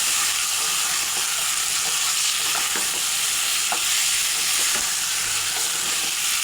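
Potatoes and chicken sauté together in a hot pan for chicken bhuna khichuri, giving a steady, loud sizzle and frying hiss throughout, with occasional soft stirring scrapes and no talking.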